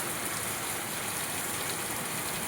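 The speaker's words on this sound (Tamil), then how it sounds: "சூப்பராக பெய்து வாருங்க மக்களே மழைய." Heavy rain pours down in Palani, Dindigul district, during a thunderstorm, making an even, unbroken roaring hiss at moderate level with no talking.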